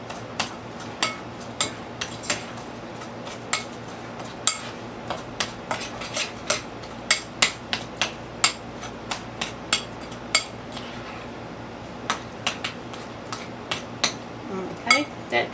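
A little spoon scrapes and clinks against a bowl while stirring buttery sourdough chocolate chip cookie dough, with irregular light taps and scrapes repeating steadily throughout, fairly quiet and close.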